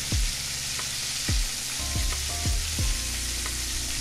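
Flour-coated sous vide ribs fry in a pan with a steady, close sizzle, broken by a few soft thumps and clatters as pieces shift in the hot oil.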